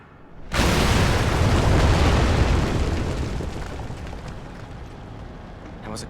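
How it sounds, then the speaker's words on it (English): Dynamite blast in The Evil Within: a sudden loud boom bursts in after a brief quiet lead-in, then a long, heavy rumbling roar that slowly fades over several seconds. "Joseph will eventually shoot the guy with the dynamite."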